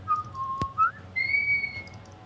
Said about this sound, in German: Boah, wer pfeift denn da so?